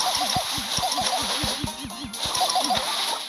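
Watery splash attack from the Whale Guardian Nita character in a mobile video game: a steady wash of sloshing spray with a quick, rhythmic run of plucky game tones underneath, fairly loud and close throughout.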